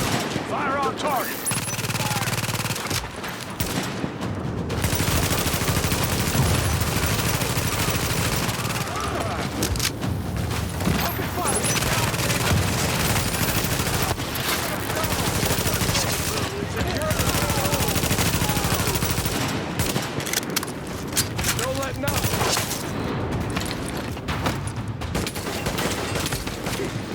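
Sustained bursts of automatic gunfire from a firefight in the video game The Division, loud and dense for most of the stretch, broken by short lulls, with occasional voices mixed under the shooting.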